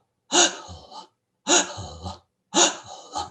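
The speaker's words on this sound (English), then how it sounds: "with a breathing process, which is very, very loud" Three loud, close breaths taken as a demonstration of forceful breathing, each a sharp gasping inhale followed by a rougher exhale, evenly spaced about a second apart with silence between them.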